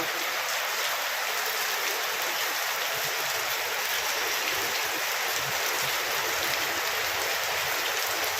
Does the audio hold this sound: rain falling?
yes